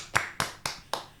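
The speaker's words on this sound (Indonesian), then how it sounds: "Rame yang tepuk tangan ya." Four sharp hand claps at an Indonesian school podcast recording, evenly spaced about a quarter second apart, close and dry with quiet room tone between them.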